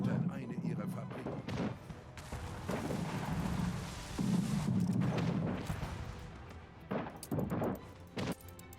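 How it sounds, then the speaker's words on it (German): Factory explosion in the city-building game Anno 1800: a dense, rumbling blast that swells and sustains for several seconds, then breaks into a few sharper bursts, with a voice talking over it. "Eine Explosion erschüttert eine ihrer Fabriken."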